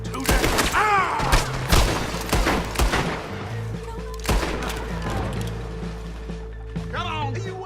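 Gunfire in the western game Red Dead Redemption 2: several sharp close shots and bursts in quick succession amid shouting voices, then fading into lingering ambient rumble with occasional further shots.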